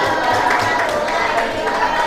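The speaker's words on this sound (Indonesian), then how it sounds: "Baik, tepuk tangan." Classroom applause from students in an Indonesian teacher-training session, a dense steady patter of many hands at moderate loudness lasting throughout, with a faint murmur of voices underneath.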